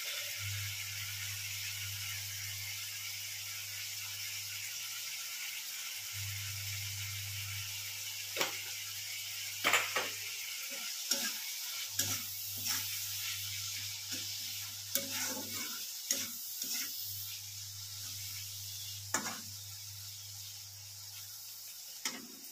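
Onions frying in a pan with salt and turmeric: a steady, close sizzle with intermittent scraping stir strokes, grouped in the second half, over an on-and-off low hum, with no one talking.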